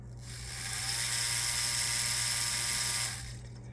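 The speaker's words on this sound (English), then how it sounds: "You can kind of hear the click of the foot pedal engage, and then it starts." ArtDriver Z3 tattoo machine buzzing steadily for about three seconds after starting up, a close, even high-pitched whir with no talking.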